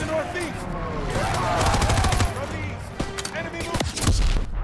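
Dense World War II gunfire in Call of Duty WW2, rapid rifle and machine-gun bursts cracking continuously through a noisy battle, with shouted voices mixed in.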